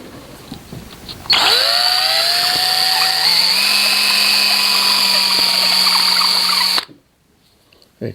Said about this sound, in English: That's why I brought my drill.